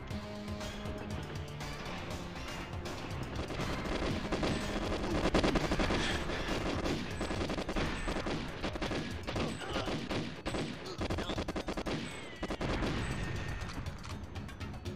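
Dense, continuous gunfire from the video game GoldenEye 64 in its HD Xbox version, rapid automatic bursts and explosions layered with game music, loud and unbroken for the whole stretch.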